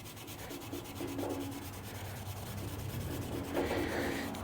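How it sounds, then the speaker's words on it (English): Steady rubbing of 4/0 steel wool over a rust-stained chrome truck bumper, a continuous close scratchy friction with slight rhythmic strokes, fairly quiet and alone. "4/0 steel wool."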